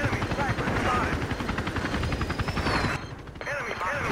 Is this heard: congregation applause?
no